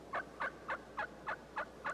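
A wild turkey calling in a steady series of seven short, evenly spaced clucking notes. The calls are faint and distant over a quiet background.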